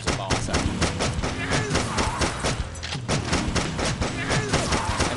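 Gunshots in the Delivery Man flash video game, a dense, steady run of loud, rapid shots packed close together with no break throughout.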